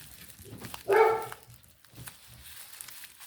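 A house dog gives one short bark at a passing dog outside, a single moderately loud yap followed by faint room noise.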